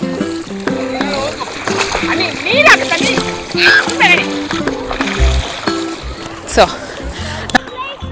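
Water splashing and sloshing as someone wades into a lake at Nickel Beach, Ontario on a hot summer day, close splashes under continuous talking with children's voices nearby.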